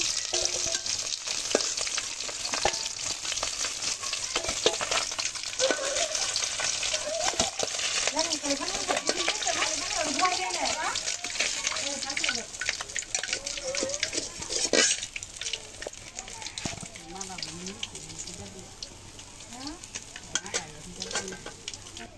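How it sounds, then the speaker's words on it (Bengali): Potatoes fry in leftover oil from frying rohu fish, a bright continuous sizzle with bursts of bubbling, clinks and scraping of a spatula stirring in the pan, with faint voices in the background. "মাছ ভাজার তেলে আমি আলুগুলো ভেজে নিচ্ছি।"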